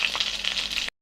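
Ham frying in butter in a pan, a bright steady sizzle and crackle up close that cuts off abruptly near the end before briefly resuming.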